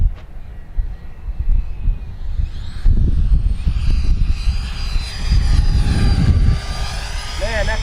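A JP Hobby 70mm all-metal electric ducted fan RC jet passes by slowly with flaps down, its loud, smooth rushing roar and rising fan whine swelling, holding steady, then easing off as it goes by.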